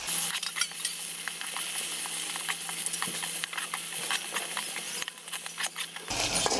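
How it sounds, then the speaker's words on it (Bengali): Cumin, garlic paste and ginger paste frying with onions while being stirred in a pan for a chicken roast, a loud continuous sizzle with scraping stirs and spitting crackles throughout, close up and without speech. "হাফ চা চামচ পরিমাণে আদা বাটা দিয়ে পেঁয়াজের সাথে মশলাটাকে ভালো করে মিশিয়ে নিচ্ছি।"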